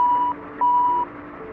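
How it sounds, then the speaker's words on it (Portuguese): Two long, loud, steady electronic tones sound inside an aircraft cockpit at takeoff, one after the other with a short gap between them, over a low background hum. "os pilotos foram surpreendidos por 2 alarmes consecutivos"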